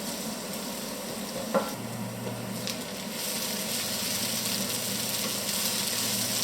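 Onions fry in a pan over low heat with a steady soft sizzle and crackle, a brief scrape of stirring early on, close and fairly quiet with no talking.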